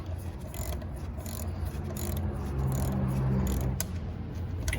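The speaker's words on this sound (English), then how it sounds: "use ratchet and socket 10mm and take these 3 off" Ratchet and 10mm socket loosening bolts on a 2005-2009 Ford Mustang during a coolant thermostat and gasket job, a quiet, rapid clicking that runs in short bursts at close range.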